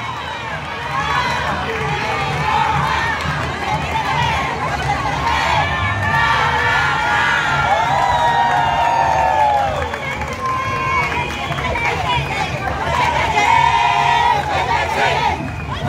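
A crowd at a school-generations parade for Escuela Secundaria Benito Juárez in Jojutla cheers and shouts continuously. Excited voices, including children's, rise and fall over steady background noise for about sixteen seconds, with no clear break.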